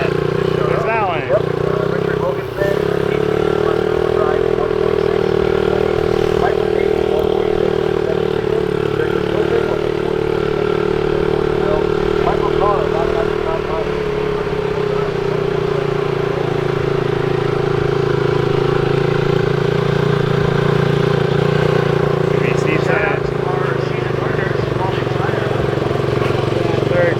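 A single-turbo LS-engined drift car at a Gridlife event idles steadily for a long stretch, a loud, continuous low engine drone with people talking nearby over it.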